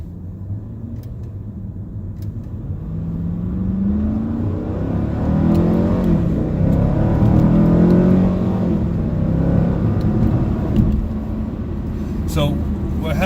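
A Chevy SS accelerates hard under paddle shifting, engine note climbing and swelling in a rising whir from inside the car, with a person talking over the engine throughout.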